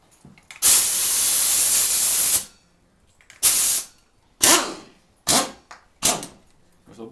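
Compressed air blows onto a motorcycle fork during seal repair: one long loud hiss, then four shorter close bursts of air at irregular intervals, with no talk.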